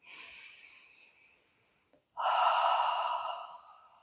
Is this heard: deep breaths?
yes